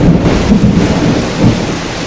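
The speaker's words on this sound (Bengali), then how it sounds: "সামনে প্রচুর বৃষ্টি হচ্ছে" Heavy rain pours steadily close by during a storm as a dense roar, with low thunder rumbling underneath.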